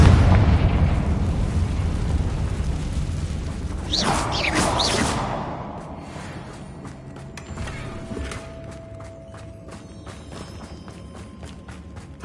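A Confringo fire spell explodes in Hogwarts Legacy: a sudden broad burst that crackles and fades over a second or two, then gives way to softer mechanical creaks and a steady low rumble.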